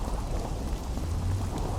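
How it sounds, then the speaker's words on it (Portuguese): Steady rainfall with a low thunder rumble in the video game The Witcher 2, a continuous dense hiss with a deep rolling undertone and no voices. "Pô, que essa chuva também não ajuda"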